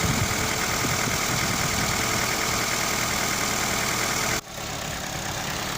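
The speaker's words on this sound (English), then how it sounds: "the engine is still running." An Opel Astra F engine idles smoothly while still cold, a steady close mechanical hum and rumble that holds evenly throughout, dipping slightly in level near the end.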